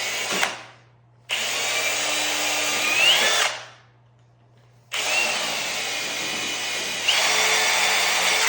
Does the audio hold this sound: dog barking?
no